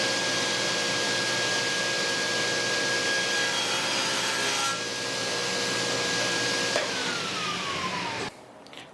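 A Festool saw cuts through a beaded wooden drawer front, a loud, sustained whining cut with a shifting pitch midway, ending abruptly near the finish as the blade spins down.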